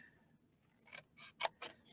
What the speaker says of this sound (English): And I'm just going to use my scissors.